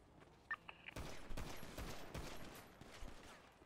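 Rapid gunfire in a 6 v 6 GTA NoPixel roleplay fight, with a burst of sharp cracks and repeated shots following a few faint clicks, loud and close, mixed with game noise.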